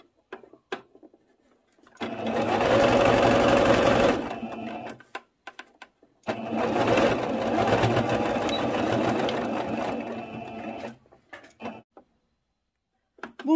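A sewing machine stitches an elastic skirt in two long runs of steady, rapid mechanical whirring, separated by a pause with faint handling clicks, close and loud with no talking.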